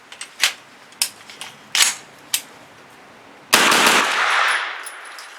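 Federal HST 124 grain rounds go off in a Thureon Defense 9mm carbine, four sharp separate shots at a deliberate pace, the last cracking loudly and leaving a long echoing ring that slowly fades outdoors.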